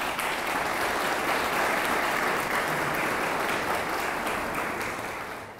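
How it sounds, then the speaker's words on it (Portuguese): Sustained, loud audience applause greets a lecturer coming to the podium at a university talk, a dense even wash of clapping that holds steady before tapering slightly at the end. "Eu peço uma salva de palmas."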